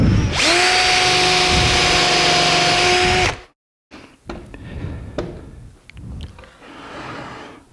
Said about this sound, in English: back with my drill bit